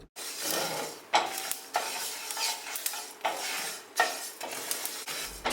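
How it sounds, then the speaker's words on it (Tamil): Sesame seeds crackling and popping as they dry roast in a hot pan, with repeated bursts of scraping as they are stirred every second or so. "இது வறுக்கும் போதே பார்த்திங்கன்னா நல்லா உங்களுக்கு அந்த சூடு வந்தோடனே நல்லா படன்னு வெடிக்கும்."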